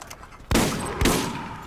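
Two loud shotgun blasts about half a second apart in the video game Borderlands, each a sharp close crack that rings out briefly after it, alone with no talking.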